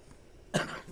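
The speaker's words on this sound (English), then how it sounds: "the last thing you want to hear is me coughing in your ear" A man lets out a single short, sharp cough up close, a brief burst after a quiet moment.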